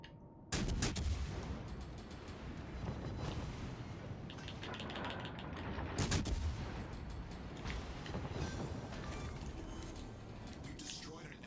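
Naval guns firing at a cruiser in World of Warships Legends: two heavy broadband salvos, one near the start and one around six seconds, over a steady rumble of battle noise.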